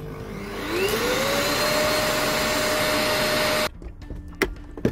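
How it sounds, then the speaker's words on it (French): An Ilife G9 Pro robot vacuum's base station runs its emptying cycle, a loud steady whirring suction with a rising motor whine that holds for nearly four seconds, then cuts off abruptly, leaving faint clicks and rustles. "La base réalise alors son cycle de vidange qui est un processus assez bruyant."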